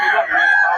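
Rooster crowing at a busy market stall crowded with chickens, a loud, drawn-out call that holds for about a second.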